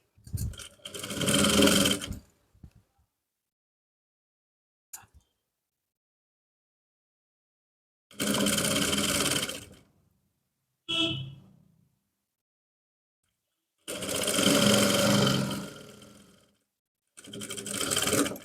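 A sewing machine stitches a pocket onto trousers in several separate loud bursts, each a few seconds long, with silent pauses between runs, close up.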